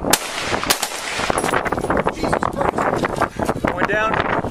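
Video game gunfire crackles in rapid bursts through a dense, noisy mix while excited voices shout over the action close to the microphone.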